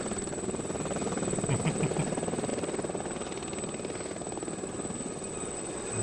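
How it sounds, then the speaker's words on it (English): A drone flies over Chernobyl in a VR game, its continuous rotor buzz holding a steady, fairly close drone with a faint high whine on top. "This drone thing is freaking awesome, man."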